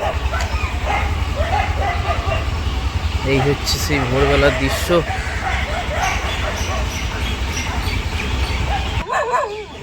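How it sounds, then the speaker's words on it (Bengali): Dogs bark in short bursts amid outdoor street ambience near the Hooghly river in Howrah while a person talks nearby. "যা কুকুরে এখানে হও হও করছে"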